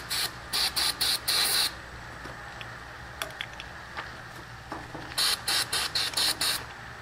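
Brake cleaner sprayed from an aerosol can while cleaning out a part, heard as two clusters of short hissing bursts, about five quick spurts early on and another run of six or so later, close and loud over a quiet background.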